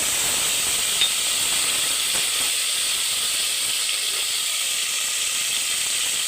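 Cumin and mustard seeds sizzling in hot oil for a potato kurma, a bright, continuous hiss with faint popping, steady and close with no voices.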